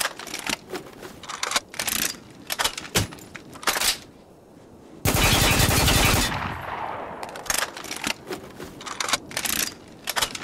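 Automatic gunfire in the shooter Spec Ops The Line comes in loud, close, rapid bursts, with a short lull and then a sustained roaring blast before the shooting resumes.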